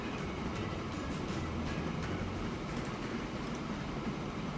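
Mogul steam locomotive running in Transport Fever, a steady, loud rumble of wheels and engine with no break, heard up close.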